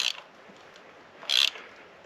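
A ratchet wrench snugs a spark plug into a Mitsubishi Outlander Sport engine, a short burst of quick clicks at the start and another brief clicking run near the end, close and fairly quiet.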